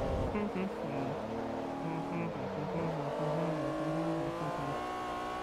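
An Acura NSX GT race car in Forza Motorsport 3 revs loudly near at hand, its engine note climbing and shifting through gears in steady harmonic sweeps.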